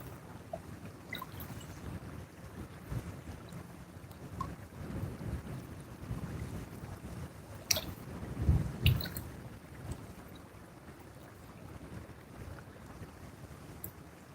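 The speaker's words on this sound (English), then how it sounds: "Quite a windy day, folks." Strong wind buffets the microphone in low rumbling gusts at a river, with a heavier blast partway through and no talking.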